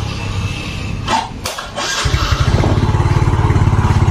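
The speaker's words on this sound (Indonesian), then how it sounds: "Bisa nyala tanpa diengkol" A Yamaha Mio motorcycle engine starts without the kick starter: a few brief cranking bursts, then the motor catches and settles into a loud, steady, rapid idle putter close by.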